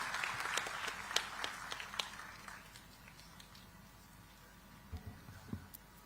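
Applause from a digital technology summit audience in Visakhapatnam, dense clapping over the first couple of seconds, then thinning out to scattered claps before fading.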